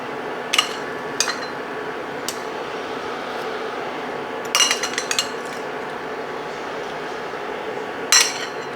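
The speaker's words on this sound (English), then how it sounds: "Now I'm going to gently put the eggs in the mixture." Eggs lowered gently into a pot of spiced tea egg mixture, giving three or four sharp clinks of shell against the pot, spaced apart, over a steady low background hiss.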